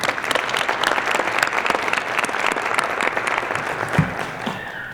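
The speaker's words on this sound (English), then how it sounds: "If we can give them a round of applause," Audience at an EMS graduation ceremony applauding the honor guard, sustained crowd clapping filling the hall, loud and even, fading slightly toward the end with a brief thump.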